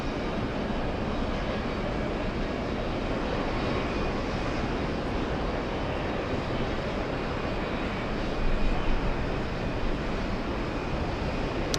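A British Airways airliner crossing the runway at JFK produces a steady, broad jet engine rumble that holds at a constant level throughout, swelling slightly near the end, with no voices.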